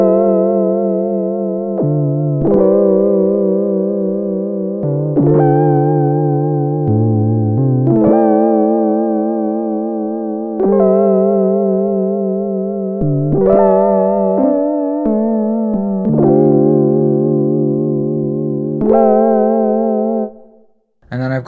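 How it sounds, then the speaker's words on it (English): Sequential Prophet-6 synthesizer playing an edited MIDI part, a loud, sustained buzzy lead with vibrato-like wobble that steps between held notes in a repeating phrase, played alone and cutting off near the end. "I've got some MIDI on the Prophet-6 that I played in and then edited afterwards,"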